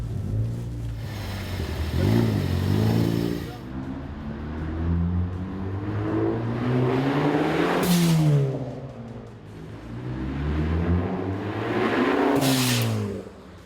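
A 2013-2018 Ford Focus ST fitted with a Turbosmart dual-port blow-off valve revs repeatedly without load, the engine note rising and falling, and sharp airy whooshes from the valve follow the revs, close and loud with no talking.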